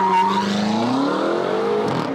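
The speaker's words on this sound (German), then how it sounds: "die 4 Räder sind durchgegangen. Es hat ganz kurz gequietscht." Brief tire squeal from all four wheels spinning as a car launches hard with launch control, full brake and throttle held at 3000 rpm; a loud engine roar with rising pitch carries the short screech, close and alone.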